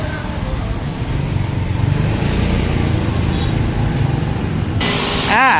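A car being driven out from a house, its engine and tyre noise rumbling steadily nearby, ending in a louder rising rev, with faint voices in the background.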